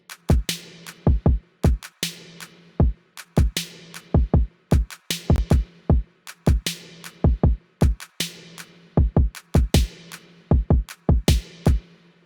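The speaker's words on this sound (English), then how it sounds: "We got a kick, we got a snare, we got claps and hi-hats." A programmed FL Studio drum pattern loops alone: punchy kicks, snares and claps in a steady repeating groove with crisp hi-hats ticking between them, loud and close.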